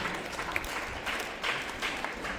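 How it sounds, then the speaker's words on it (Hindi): An audience at a student awards announcement applauds a rank, steady scattered clapping from a crowd that rises and falls slightly over a couple of seconds. "जोरदार तालियां"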